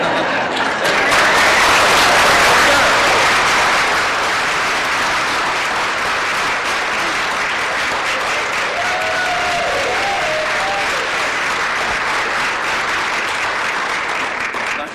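Sustained applause after the RiverSpirit Casino Resort reopening announcement, a broad, even roar of many hands clapping that holds steady throughout, with a faint voice briefly audible beneath it.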